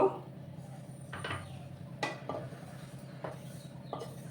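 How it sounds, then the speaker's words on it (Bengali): Roasted sesame seeds are scraped from a pan into a bowl, a few light metallic clinks and taps of a spoon against cookware spaced over a few seconds, soft and close in a quiet kitchen. "সমস্ত তিলটাকে আমি একটা বাটির মধ্যে নামিয়ে নিলাম।"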